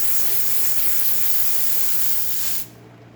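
A loud, steady steam hiss from the wand of a freshly serviced Rocket R58 espresso machine, continuous for a few seconds before cutting off abruptly.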